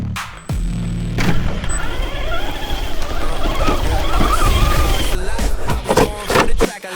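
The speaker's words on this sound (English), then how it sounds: "I love these RC cars," ARRMA Senton RC car driving over rough terrain, its electric motor whining loudly and continuously at close range with surging revs and scrabbling tire noise.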